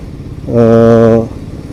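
Royal Enfield Himalayan 450 single-cylinder 450 cc short-stroke motorcycle engine, heard while riding as a steady droning tone that swells in for under a second and then fades back into faint background rumble.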